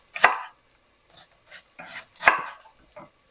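An onion is chopped on a board, producing a few sharp, distinct knife strikes with short gaps between them, close and clear with no talking.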